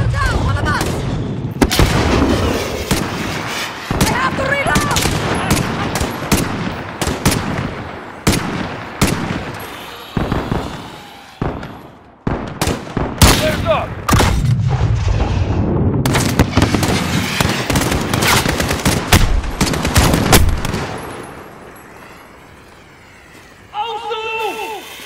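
Mortar blasts and gunfire in Call of Duty Modern Warfare: loud, rapid bursts of gunshots and heavy booming explosions go on almost without a break for about twenty seconds, with voices shouting over them, then the combat fades.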